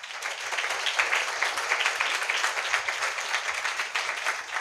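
An audience at a night church gathering in Ananthapalli claps together in a sustained, dense burst of applause, steady and fairly loud throughout with no talking over it.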